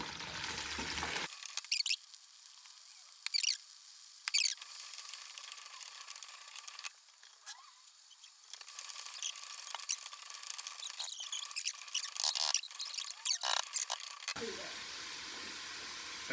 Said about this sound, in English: the zucchini has been cooking for 3 minutes